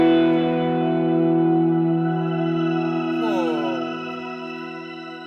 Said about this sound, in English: what it does is actually brings up the reverb sound on its own